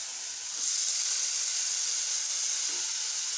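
Chopped tomato and chili dropped into hot oil in a pan for a Sri Lankan brinjal, potato and plantain kootu, giving a steady close hiss of sizzling that swells slightly after the first half second and holds.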